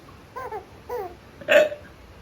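A baby girl hiccups in short, voiced catches, two soft ones followed by a louder, sharper third, close and clear against a quiet room.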